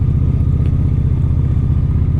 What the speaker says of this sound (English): Man, Harleys just sound better than my bike.